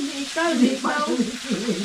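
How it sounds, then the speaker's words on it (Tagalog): Tilapia fish frying in a pan, a steady close sizzle with some stirring, while a voice speaks over it briefly. "Prito kayo tilapia."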